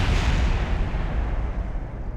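A car blows up in a Top Gear parody video game built around a Reliant Robin space shuttle. It is one loud, close, rumbling blast whose roar fills the moment and tails off slowly, with nobody talking.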